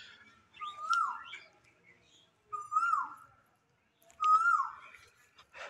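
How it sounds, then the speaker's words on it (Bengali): Cuckoo calling near old riverside houses on the Titas River in Cumilla, three clear rising whistled calls spaced a couple of seconds apart, fairly close, in quiet surroundings. "কোকিলের মিষ্টি ডাক শুনতে পাচ্ছেন নিশ্চয়ই"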